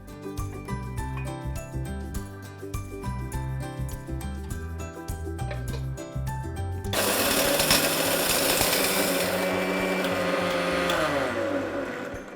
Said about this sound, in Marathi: आपला मसाला ग्राइंड करून झालेला आहे